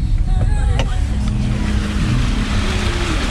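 A van creeps slowly through deep flood water, its engine giving a loud, steady low rumble with constant churning water noise close by.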